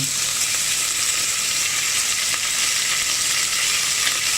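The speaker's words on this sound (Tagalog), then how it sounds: "So we'll fry our beef or sear it." Beef sears in a hot pan with a steady, loud, close sizzle and crackle that holds without a break, no voices over it.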